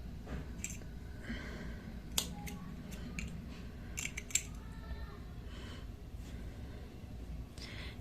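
Scissors snip through crochet yarn while finishing a triangular pet scarf. A couple of faint, short clicks and snips stand out over quiet room noise.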